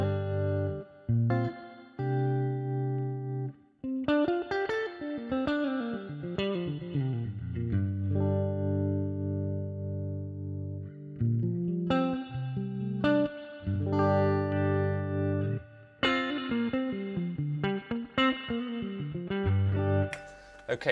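An electric guitar through a tube spring reverb model on a Fractal Axe-Fx III plays melodic phrases and chords with a wet, splashy reverb tail, loud and continuous with brief pauses between phrases.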